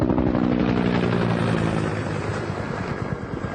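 A helicopter flies close by as a loud, steady sound effect, its rotor chopping in a rapid rhythmic thud under a broad roar that eases slightly toward the end.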